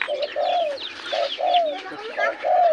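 A pet pigeon coos back at home, a close, clear series of soft rolling coos repeated in a steady rhythm, with no talking.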